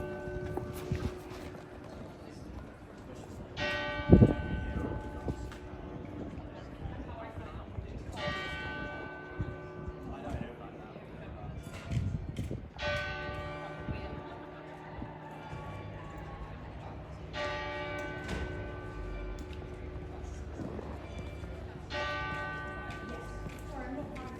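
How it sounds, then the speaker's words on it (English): St. Mary's church bells in Oxford ring out at 7 o'clock on an evening walk, with repeated clear peals rising and fading over several rounds above distant street ambience and occasional voices. "it's 7 o'clock, so we might get some bells from St. Mary's"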